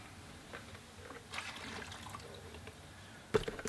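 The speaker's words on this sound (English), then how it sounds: "And I'll just empty my water quick." Painting water from a watercolor rinse container is emptied, a soft trickle and splash of liquid in a quiet room that ends in a brief louder slosh.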